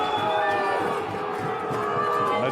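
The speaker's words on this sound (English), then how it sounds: "As you can hear, the crowd are getting into it" Rugby stadium crowd cheering during a Stormers home match against Connacht, a dense roar of many voices with shouts and whistles rising and falling, loud and continuous.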